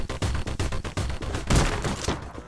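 Uzi fire in a video game, a fast run of loud, close bursts of automatic shots with brief gaps between them, continuing without pause for the whole stretch.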